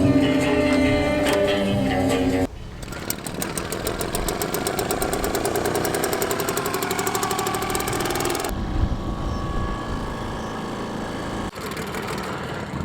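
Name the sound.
outboard dinghy engine running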